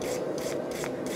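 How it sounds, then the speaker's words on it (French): A brush scrubs briskly over twisted metal in a workshop, giving a short, close, raspy rubbing sound with several quick back-and-forth strokes. "Un coup que c'est fait, on passe une brosse."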